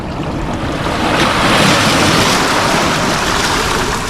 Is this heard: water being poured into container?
yes